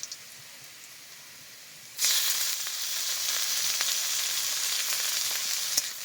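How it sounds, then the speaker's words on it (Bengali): Shrimp hit hot oil in a pan with onions, and a loud, steady sizzle bursts in after a quiet start and carries on evenly to the end. "চিংড়ি মাছগুলো একটু হালকা ভেজে নিয়েছি"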